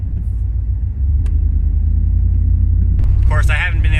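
A pickup truck engine runs steadily with a deep low rumble throughout, close by, with a person talking over it toward the end.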